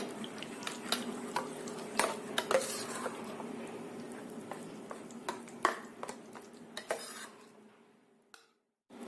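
A spoon stirs and mashes raw mango pulp with saffron in a metal pot, giving repeated clinks and scrapes at an uneven rhythm, close and fairly loud, ending with a brief silence.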